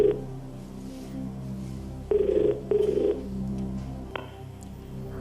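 A phone call goes out on a Hindi television quiz show: a telephone rings in two clear bursts over a steady hum of background music, and then a brief click comes through as the line picks up.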